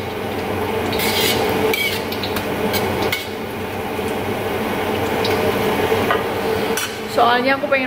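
Battered tempe mendoan frying in a wok, with a steady crackling sizzle throughout, broken by occasional clinks and scrapes of utensils against the pan.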